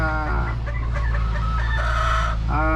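A pure Grey gamefowl rooster crows loudly and close, one sustained harmonic call with clucking from other chickens mixed in.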